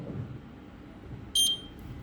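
Short electronic beep from a buzzer triggered by an IR sensor on a Raspberry Pi, a single clear tone lasting a fraction of a second over a quiet room hum.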